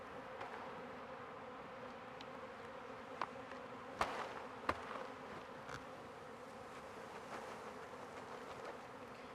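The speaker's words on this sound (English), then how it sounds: "there's a ton of bees everywhere" Honeybees buzz steadily in a dense swarm close by around a hive, with a few sharp knocks and clicks standing out over the continuous hum.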